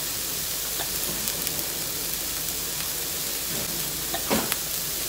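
Margarine-style butter substitute melts in a cooking pan with a soft, steady crackling sizzle and a few light pops, fairly close and running without talk.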